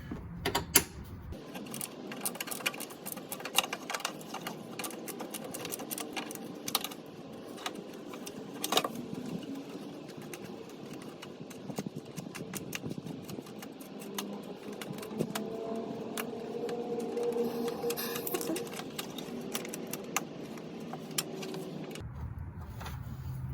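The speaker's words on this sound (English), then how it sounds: "Now use your 10mm socket wrench to remove those two 10mm bolts that's holding the fog lamp housing." Ratcheting and metallic clicking from a 10mm socket wrench loosening fog lamp housing bolts on a 2003 Chevrolet Suburban, steady and moderately close over a long stretch, with occasional clinks and creaks and no talk.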